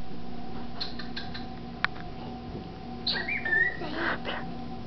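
A small bird chirps in short, scattered bright tweets and a few whistled phrases, close but fairly quiet, over a low steady background hum, with a single sharp click partway through.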